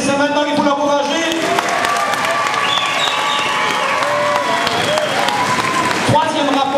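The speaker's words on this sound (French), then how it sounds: "c'est maintenant qu'il faut l'applaudir, c'est maintenant qu'il faut l'encourager." A crowd at a Christmas motorcycle trial show in Bassecourt, Switzerland applauds and cheers steadily throughout, with an announcer's voice and a motorcycle engine revving up through the mix.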